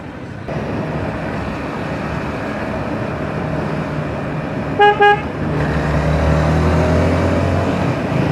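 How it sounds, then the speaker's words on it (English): The horn of a 2011 Honda CBR 250R ABS motorcycle gives two short, loud, close honks in quick succession, heard over steady traffic and engine rumble. "it comes with a very, very big klaxon."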